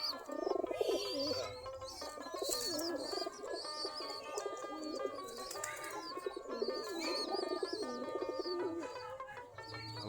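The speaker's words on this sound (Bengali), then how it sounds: "আমাদের দেশি গিরিবাজ কবুতর।" Local Bangladeshi Giribaz pigeons cooing in a loft, several soft throaty coos overlapping with occasional chirps and a brief wing flutter, steady and close throughout.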